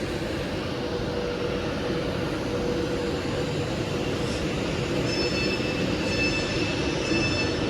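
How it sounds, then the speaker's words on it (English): A two-coach train at Stoke-on-Trent station, with a steady rumbling hum of the engine and wheels on rails throughout, joined later by faint high squealing tones from the wheels or brakes. "This train is formed of 2 coaches."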